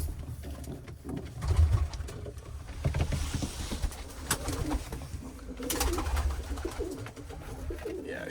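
Pigeons cooing together in a loft after a snowstorm, soft rolling coos overlapping at close range with faint fluttering and shuffling throughout.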